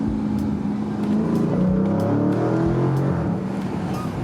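Engine of a 2020 Dodge Challenger 392 Scat Pack rising and falling in pitch as it revs through a downshift while driving, a loud, steady throaty drone heard from inside the car.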